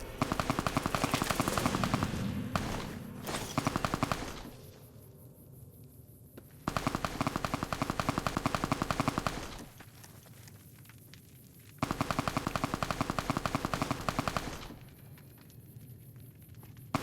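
Three long bursts of rapid automatic gunfire in the game Fallout: New Vegas, loud and dense, separated by quieter stretches of background ambience.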